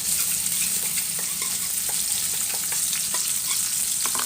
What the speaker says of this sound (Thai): ผัดพริกกระเทียมให้หอมค่ะ